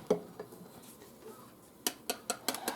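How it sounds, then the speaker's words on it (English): Cinnamon roll dough ingredients mixed in a bowl in a home kitchen, heard as a run of sharp clinks and taps of utensil against bowl, scattered at first and then quicker near the end, close and fairly quiet. "let me just mix it all up"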